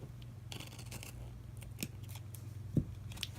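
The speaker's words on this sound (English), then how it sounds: "This one I'm going to trim with a scissor." Scissors trim a strip of washi tape, with a few quiet snips and one sharper cut near the end over faint room noise, no talking.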